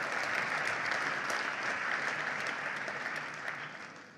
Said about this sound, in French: Oui, applaudissez-les,